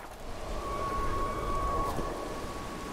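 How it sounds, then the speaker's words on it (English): A thin, steady siren tone in the video game The Witcher 3 holds over a rain-like hiss, then slides down in pitch and fades. "Maybe that was a siren?"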